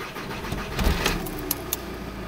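An Audi A3 with a 2.0 TDI BKD diesel engine is hot-started: a short cranking burst catches into a low idle rumble, followed by a couple of sharp clicks inside the car.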